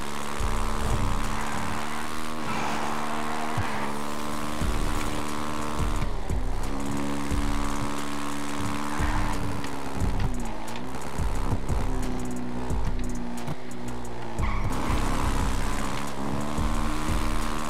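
A car accelerating in GTA roleplay, its engine droning loudly and steadily with shifting pitch under busy game noise, no talk heard.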